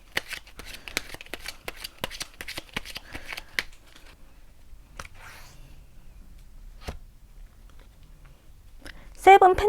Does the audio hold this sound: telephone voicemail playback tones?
no